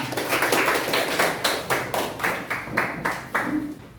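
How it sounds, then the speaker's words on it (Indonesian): A small classroom audience claps in an uneven, fairly close burst of hand claps for the first group at a school performance assessment, the claps coming in loose rhythmic waves. "Tepuk tangan untuk kelompok pertama."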